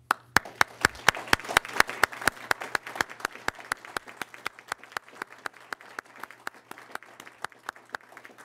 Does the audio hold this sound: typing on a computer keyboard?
no